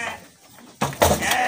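Garut sheep in a pen bleat loudly in a couple of close, overlapping calls after a quieter stretch, with livestock shuffling around them.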